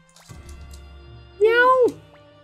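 A voice imitates a cat, a low rumbling purr-like growl building into a drawn-out, wavering meow, set against faint background hum, close and fairly loud.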